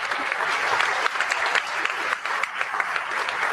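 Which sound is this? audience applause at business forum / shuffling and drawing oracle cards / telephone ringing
audience applause at business forum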